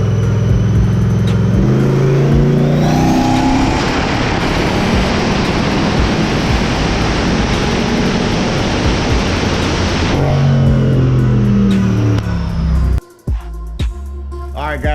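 A turbocharged 6.0L engine in a Nissan 240SX roars at full throttle on a dyno, a loud sustained wail climbing in pitch for about ten seconds before backing off, with clattering noises and a sharp pop near the end.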